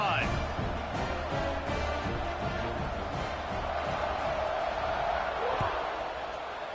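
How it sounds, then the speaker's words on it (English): Football stadium crowd at an Oregon Ducks game against Arizona State roaring steadily after a scoring drive, a broad, sustained wash of cheering behind a commentator's talk. "this crowd is feeling themselves after that last drive"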